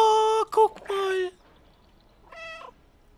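A cat in the video game Stray lets out three quick, clear meows in a row, then one more shorter meow after a brief pause. A voice can be heard faintly.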